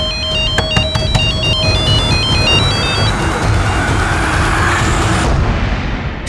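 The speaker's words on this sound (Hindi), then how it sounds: "इरफान, मैंने बोला था ना मुझे फोन मत करना।" A phone's electronic ringtone chirps in a repeating two-tone pattern for about three seconds over a loud, dramatic rumbling music bed that swells and then fades.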